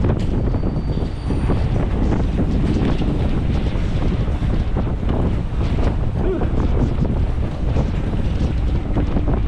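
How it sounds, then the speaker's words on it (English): Strong wind on a street in Macau buffets the microphone continuously with a loud, rumbling roar and gusty turbulence for the whole stretch. "Oh, that wind's really coming in right now."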